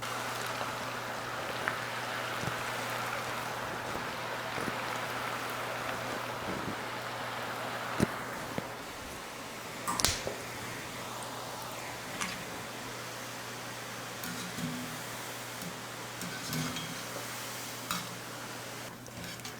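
Steady crackling and bubbling of a potato and tomato snack frying in hot oil, a continuous close sizzle with a few sharper pops and ticks throughout.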